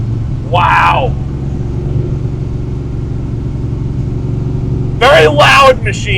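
A 1968 Camaro Pro-Street's engine rumbles steadily at close range, with two brief louder rev bursts near the start and end over a constant low idle; people talk over it.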